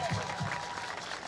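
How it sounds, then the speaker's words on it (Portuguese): Brief, faint applause from an audience at Magic Kingdom in Orlando for a brass band, a short spatter of clapping lasting just over a second. "Aplauso para nós!"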